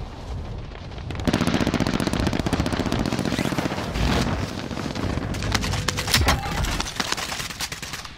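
Rapid automatic gunfire from a video game shooter rattles loud and nearly continuous after a brief quieter lead-in, dense bursts running to the end with some sharper cracks mixed in.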